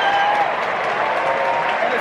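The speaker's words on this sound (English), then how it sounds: "it's caused considerable pleasure to the crowd" A baseball stadium crowd cheering and applauding, a steady loud roar with no breaks.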